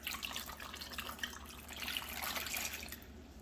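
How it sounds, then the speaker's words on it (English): Water poured into a pot to make an ice water bath for beef tongue, a soft, steady trickle and splash that stays fairly faint and continuous, with no talking. "So I'm going to add some water."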